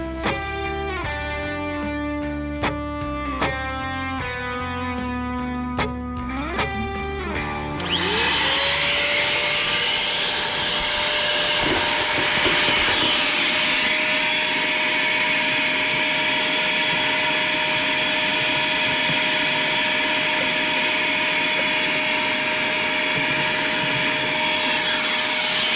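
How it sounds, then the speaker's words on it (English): A vacuum cleaner runs steadily while sucking debris from a dirty car engine bay, a loud sustained whine with a high tone, following a short stretch of musical notes. "We're gonna bring out a vacuum. We're gonna suck up a lot of the big stuff."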